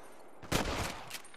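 Gunfire aimed at a deer while hunting in the Western video game Red Dead Redemption: a single sharp, loud shot bursts out followed by a short echoing tail, with faint later pops.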